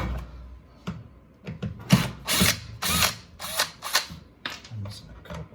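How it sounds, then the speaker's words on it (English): Power tool driving screws out of a Deco brand portable ice maker during a teardown, several short loud whirring bursts with ratcheting clicks and pauses between them, close up, no talking. "Let's get these screws out."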